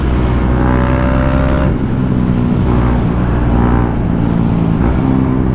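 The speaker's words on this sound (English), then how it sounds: "Rev limiter." A KTM 390 Duke single-cylinder motorcycle engine revving hard against its rev limiter, a loud, close, sustained roar with stuttering, bouncing pitch as it holds at the cutoff.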